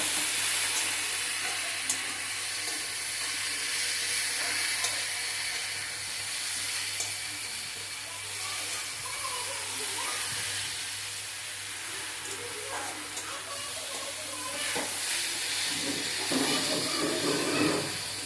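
A curry of eggplant, pointed gourd, potato and greens sizzles and hisses in a hot pan, a steady frying noise that carries on throughout with a few faint clinks.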